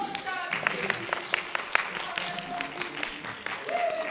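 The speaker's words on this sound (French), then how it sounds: "On va applaudir très fort, oui." An audience at a cosplay conference Q&A applauding, scattered clapping heard under people talking, fairly close and moderately loud.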